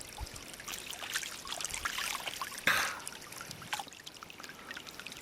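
Water splashes and trickles as someone washes off in a lake during a canoe trip, with steady pouring and dribbling sounds close by and one louder splash partway through.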